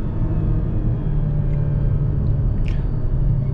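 A 2020 Jeep Renegade Longitude with the 1.8 Flex engine and automatic gearbox accelerates on a mountain road, a steady low engine drone and road rumble heard from inside the cabin.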